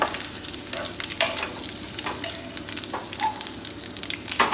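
Spices and asafoetida sizzle in hot oil for a tempering for toor dal with raw mango, a steady crackling hiss with intermittent sharper pops and stirring scrapes close by.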